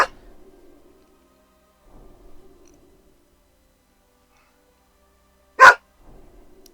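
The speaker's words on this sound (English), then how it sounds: "I don't need a dog barking at me every day." A dog gives a single sharp, loud bark near the end, standing out against near silence after a couple of faint, low muffled sounds earlier.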